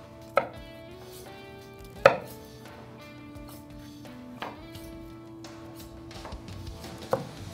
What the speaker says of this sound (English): What I like to do is just do individual slices all the way down.